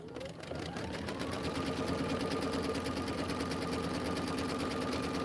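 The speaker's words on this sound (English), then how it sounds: "And we are just going to stitch." A sewing machine runs steadily as it stitches and tacks down a quilt border, with a fast even needle rhythm and motor hum that stays constant and fairly close throughout.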